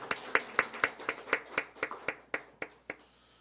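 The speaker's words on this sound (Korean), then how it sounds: "하나님께 영광과 감사의 박수 올려드리겠습니다" Scattered applause from a church congregation giving thanks during a Korean worship service: a dozen or so distinct claps spaced in an uneven rhythm, fairly close, thinning out toward the end.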